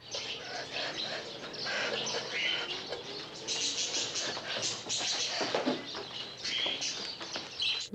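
Dense flock of birds from the 1963 film The Birds, a continuous mass of chirps, tweets and cooing calls with some wing flapping, loud and steady throughout with no clear pauses.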